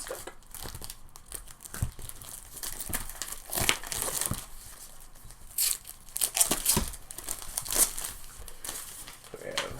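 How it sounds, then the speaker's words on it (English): Plastic wrapping being peeled and pulled off a Paizo Starfinder Flip-Mat, heard close as a run of uneven crinkling and tearing rustles, louder in several bursts. "Removing the plastic."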